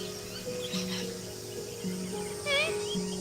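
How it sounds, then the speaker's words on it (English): A cane toad calls with a low, steady trill in short repeated bursts, heard outdoors at a bird-watching spot, with brief bird chirps rising over it near the end. "There's the cane toad calling."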